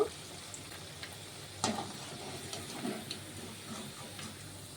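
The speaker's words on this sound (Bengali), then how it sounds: "বাকি কাবাবগুলোকে একইভাবে ভেজে নেব।" Chicken kebabs frying in a pan give a quiet, steady sizzle with faint crackles. A few soft clicks and scrapes stand out, and nobody speaks.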